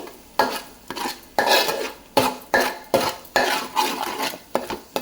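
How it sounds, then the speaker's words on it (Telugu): A spoon repeatedly scrapes and stirs chicken curry spice paste frying in oil in a pan, giving about ten rhythmic metallic strokes over a steady sizzle, close and fairly loud, with no talking. "ఒక వన్ మినిట్ కారం ఈ పేస్ట్కి అంతా పట్టేలాగా బాగా వేగించుకోవాలి"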